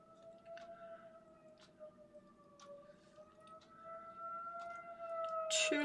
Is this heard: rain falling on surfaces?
no